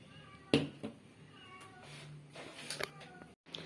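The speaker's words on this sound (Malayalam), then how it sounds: "മാത്തൻ ഓടിയാണെന്ന് പൂച്ചയെ പിടിക്കുക" A cat meows several times, with one sharp, loud meow early and softer cries after, close by indoors over quiet background noise.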